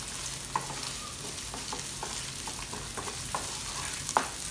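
Sliced onions stir-fry in a hot pan for kung pao chicken, a steady close sizzle broken by light scrapes of a spatula and a few sharper clinks, with no voices.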